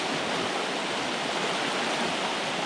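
Fast-moving river rapids during stand-up paddleboarding, a steady broadband rush of churning water that stays loud and constant throughout, with no voices.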